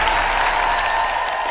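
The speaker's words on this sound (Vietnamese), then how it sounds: "Vỗ tay thật đồng nhiệt." A crowd at a lion and dragon dance show from Phan Thiet gives warm applause, a loud, continuous blur of many hands clapping close by with a steady tone running beneath it.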